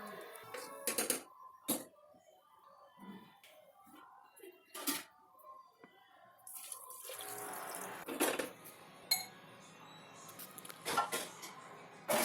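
A small glass of water poured into a country chicken curry cooking in a pressure cooker gives a soft splash and gurgle, followed by a stretch of bubbling, with a person talking intermittently nearby.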